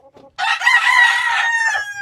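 A young rooster, a stag, crows once in a breeding pen, a loud, close call that starts after a brief quiet and holds steady for well over a second before trailing off.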